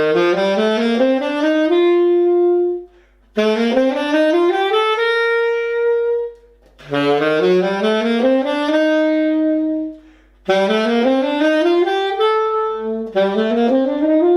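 Instrument playing rising musical scales in four or five quick runs of many notes each, with short pauses between them, clear and solo with no talking.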